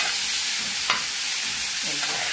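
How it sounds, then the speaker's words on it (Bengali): Saudi dumba meat frying with nothing but salt and no oil gives a steady, close, broad sizzling hiss with a sharp stirring scrape near the start and a faint voice toward the end. "মাংস ভাজা দেখছেন আপনারা"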